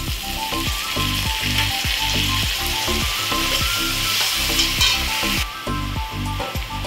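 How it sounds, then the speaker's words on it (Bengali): Chicken pieces fry in a pan with onion-garlic paste while cooking chicken bharta, giving a loud, steady sizzle broken by regular scraping stirs, close up with no talking. "2-3 মিনিট এটা আমার ভাজা ভাজা হয়ে গেছে"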